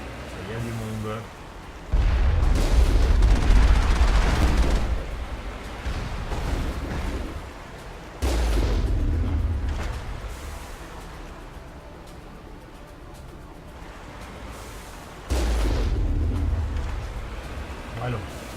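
Heavy cannon fire in the Mass Effect 1 game during the Virmire mission, three loud booming blasts with rumbling low-end tails spaced several seconds apart, with faint game sounds between them.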